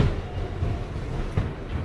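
A subway train rumbles loudly and continuously, with a brief rattling clatter of wheels on rails near the end and no voices.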